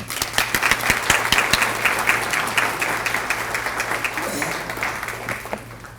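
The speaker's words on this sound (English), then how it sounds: "we will give her a round of applause" Audience applause at a distinguished alumni awards ceremony, a burst of brisk clapping from a seated crowd that swells and then gradually thins out toward the end.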